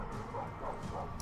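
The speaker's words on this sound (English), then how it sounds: "All the dogs are going for those Principes." Packs of war dogs in the Roman-era battle game Total War Arena bark and yip in a dense, continuous chorus amid the low rumble of a battlefield, with no voices over them.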